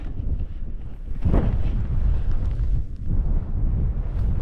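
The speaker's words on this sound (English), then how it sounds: "A bit windier up here." Strong wind buffets a hilltop viewpoint above Ballymastocker Bay near Knockalla, roaring steadily and loudly across the microphone in continuous low gusts, with no talking.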